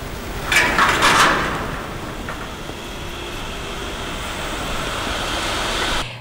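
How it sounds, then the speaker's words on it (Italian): Water pumps hum steadily inside a contaminated chromium plating factory, a constant droning mechanical wash with a few metallic clanks and bumps near the start, heard alone without speech. "La prima cosa che si nota entrando nella fabbrica dei veleni è il rumore delle pompe che continuano a lavorare"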